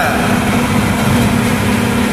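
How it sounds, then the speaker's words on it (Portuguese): Small motorcycle engine idles with a steady, buzzing hum, close and loud with a constant low rumble and no change in revs over a couple of seconds. "Pegar a motinha e partir dar um rolê de moto"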